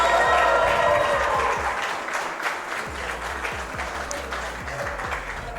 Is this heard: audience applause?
yes